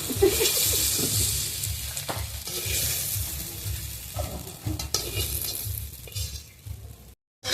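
Pointed gourd pieces fry in oil in a wok, a steady broadband sizzle with scraping stirs throughout, close and fairly loud, cutting out briefly near the end.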